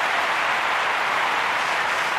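A large crowd in the Olympic Stadium claps and roars steadily throughout, a dense, even wash of applause at a triple jump event in the London 2012 video game.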